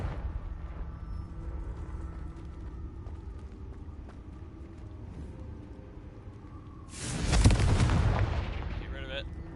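Fiery Confringo spell blasts in Hogwarts Legacy, a wizarding video game: a sudden loud burst of explosive roar near the end, rising over a steady murmur of game ambience and fading after a couple of seconds.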